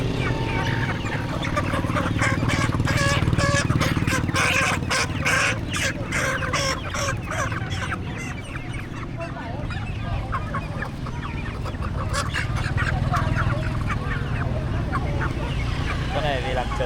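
Chickens cluck and squawk loudly and continuously at a Vietnamese market, close by, with people talking and bargaining throughout.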